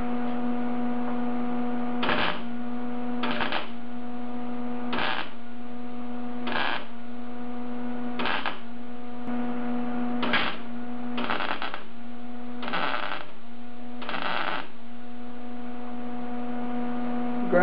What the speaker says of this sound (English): so I'm just going to weld up the holes.